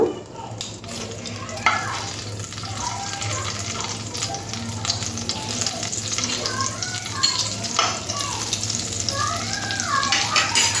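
Butter melting and sizzling in a hot pan after chicken has been cooked in it, a steady frying hiss with light stirring and scraping, with someone speaking faintly at times.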